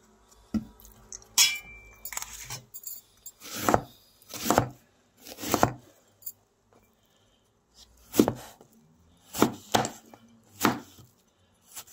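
Bottle gourd is chopped with a blunt knife on a board, close and clear, in about ten uneven strokes spaced by short pauses, with faint clinks between cuts.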